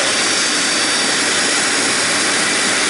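Tristar EXL MG2 vacuum cleaner motor running up close with a clean bag and new filters, a loud steady whooshing whine with a broad airy hiss and no voices.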